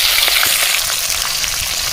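Chopped onion fries in hot oil for chicken curry, making a loud, steady, close sizzling hiss with faint crackles throughout.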